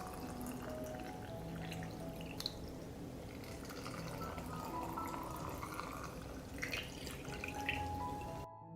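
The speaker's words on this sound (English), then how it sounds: "I pour water into the jars to cover the blueberries." Water poured into glass jars of blueberries for canning, a soft steady trickling and dripping, faint and close, with no talking.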